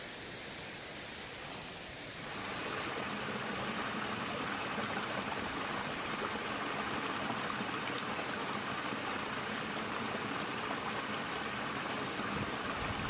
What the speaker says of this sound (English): right up here it's just a nice little pretty stream